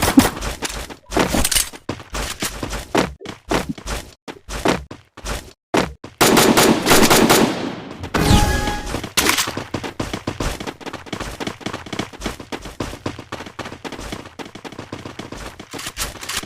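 Rapid gunfire from the Free Fire mobile game, with dense bursts of automatic shots and single cracks going on steadily and loudly throughout, including a sustained roaring volley partway through.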